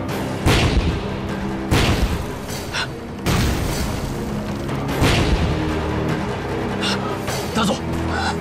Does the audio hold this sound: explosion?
yes